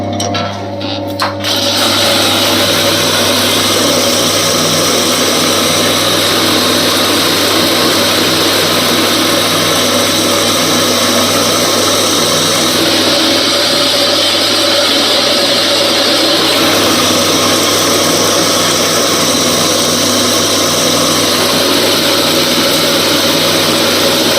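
A grinding machine for pressing cooking oil seeds runs steadily and loudly for the whole stretch, a constant mechanical hum with an irregular start-up clatter at the very beginning.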